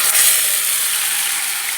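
Loud steady sizzling of spices frying in hot oil with dried red chillies, cumin and bay leaf, a continuous close hiss with no voices.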